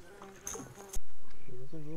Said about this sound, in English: This bee wants to land on me.